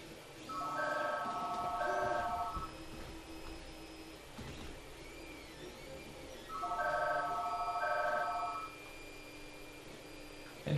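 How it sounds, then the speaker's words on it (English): A telephone rings in two separate bursts of repeated trilling tones with a quiet pause between them, fairly loud against a low room hum. "Oh, my phone's ringing."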